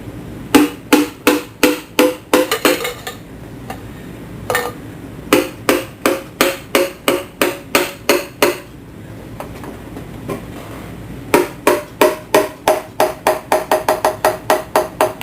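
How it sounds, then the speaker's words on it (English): Repeated tapping with the wooden handle of a small ball peen hammer, likely on an engine build: quick, close, rhythmic strikes in bursts separated by short pauses, with no talking. "I'm using the wood handle of a little ball peen hammer"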